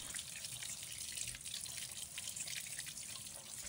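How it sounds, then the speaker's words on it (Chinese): Chicken thighs are rinsed under a running kitchen tap, a steady hissing stream of water with splashing and dripping in the sink, close and fairly quiet with no talk. "处理鸡腿肉时，先将其放在水龙头下，用流动的水反复冲洗"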